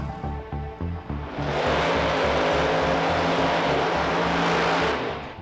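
A Pro Mod drag race car with a Hemi engine making a half-track licensing pass, idling with a lumpy, pulsing burble before launching into a loud, roaring full-throttle run that holds briefly and then starts to fade.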